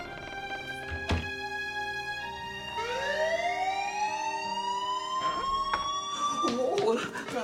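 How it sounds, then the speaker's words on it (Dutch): A wavering electronic alarm tone rises and sweeps steadily upward, loud and continuous, with a sharp thump near the start and clattering toward the end. "Oh, een alarminstallatie."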